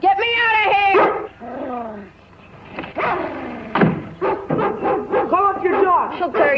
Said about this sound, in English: Call up your dog. She'll tear you to pieces.